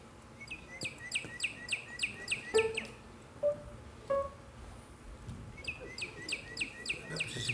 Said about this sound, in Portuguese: Eu vou tocar com o passarinho.